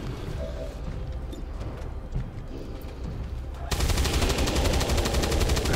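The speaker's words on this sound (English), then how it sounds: "Okay, that's my last shot." Gunfire in XCOM 2: War of the Chosen, a sudden loud burst of rapid shots hammering out for about two seconds after a stretch of lower game noise.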